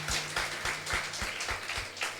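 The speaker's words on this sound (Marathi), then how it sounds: "आपण टाळ्या वाजून त्याचा गौरव करूया." A church congregation claps during a Sunday sermon, a dense, fairly loud round of applause with steady rhythmic beats, no talk over it.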